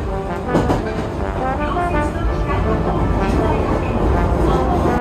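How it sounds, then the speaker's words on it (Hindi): A metro train pulls into a station in Osaka, Japan: a steady, loud rumble of the arriving train fills the whole stretch, with people talking over it. "ये आ गई भाई मेट्रो, इसमें बैठ के जाएंगे हम अपने"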